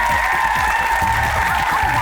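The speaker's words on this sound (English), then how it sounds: "Give him a round of applause." Audience applause from a crowd at a live kids' sports skills game show, steady clapping filling the whole short stretch at moderate loudness with faint crowd murmur underneath.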